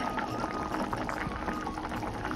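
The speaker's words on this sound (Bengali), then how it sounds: "আর এই যে দেখো তরকারি ফুটছে আমার" A pot of prawn, pumpkin and potato curry boils steadily, a dense continuous bubbling and simmering close by with no talking.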